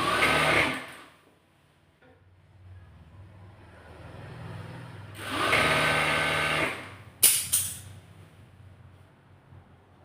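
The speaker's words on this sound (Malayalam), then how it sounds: "ഇനി ഇതിൻ്റെ ഫുട്ട് പുറത്ത് നിൽക്കത്തക്ക വിധം വെച്ചിട്ട് സ്റ്റിച്ച് ചെയ്യാം." A sewing machine stitches a double-folded churidar hem in short loud runs, starting at once, pausing, running again in the middle, then a brief final burst, each close and distinct against quiet gaps.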